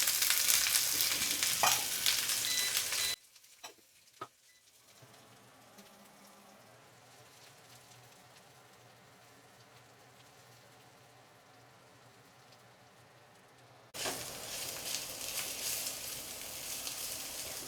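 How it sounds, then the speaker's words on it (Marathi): Sliced onions frying in a little oil, a bright close sizzle at the start, then a long quiet stretch with a low hum and a few knocks, before the loud sizzle returns. "ते आपल्याला भाजून घ्यायचे आहेत. कांदे भाजण्यासाठी मी थोडंसं तेल घालून घेणार आहे."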